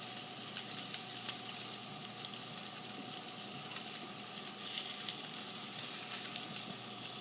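Skirt steak sizzles steadily on a hot grill, a constant bright hiss with faint crackles and pops, even in level and uninterrupted, with nobody speaking.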